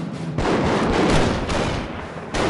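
Gunfire in the war game Command of Heroes during a German assault, a dense volley of loud overlapping shots and booms with brief dips, continuing for a few seconds.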